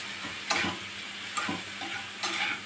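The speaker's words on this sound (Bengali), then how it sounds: "আর পেঁয়াজ তো ফোড়নেই দিয়েছি, এটা একটু কষিয়ে নেব।" Onion and potato sautéing in a pan for a steamed-egg dish: a low steady sizzle with three brief scraping stirs of the spatula spaced across the stretch, no talk.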